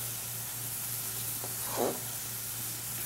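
A pan sauté for a pasta dish, cooking in oil, gives a low steady sizzle through a constant hum, with a brief louder hiss and spit near the end, alone with no talk.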